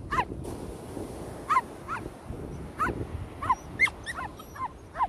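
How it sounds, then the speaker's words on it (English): Dog on a beach giving a string of sharp yips, barks and whimpers spaced irregularly over faint background noise. "my dog's gone mental"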